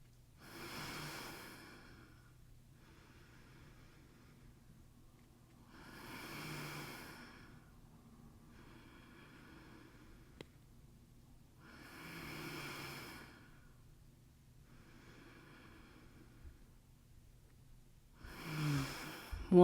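Deep, slow pranayama breathing during yoga practice: quiet, close breaths that swell and fade roughly every six seconds, with no talking.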